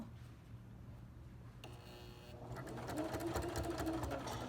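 A sewing machine stitches binding onto the edge of a quilt, a steady running whir that starts softly and grows louder and busier after a couple of seconds, continuing without pause.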